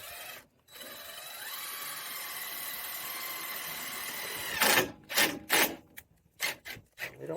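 A power driver whirs as it sinks a self-tapping screw to mount trailer brake wiring, a steady rising whine for about four seconds that ends in several short, sharp bursts close to the mic, with no talking.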